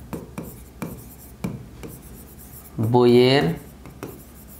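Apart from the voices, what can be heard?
writing numbers by hand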